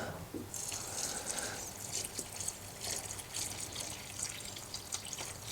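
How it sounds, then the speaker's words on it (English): Water pours and trickles into a dry soil planting hole for a tomato in a no-dig garden, a continuous close splashing gush with irregular drips and gurgles. "Now what I'm going to do is just give it some water."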